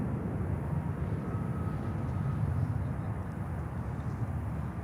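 An airliner landing on runway 9 at Miami airport, a continuous low rumbling engine roar at moderate distance, steady throughout with no talking.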